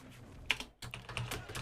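Quick, irregular keystrokes clatter on a computer keyboard close to the mic, with a short pause after an initial burst before the typing resumes in a steady run.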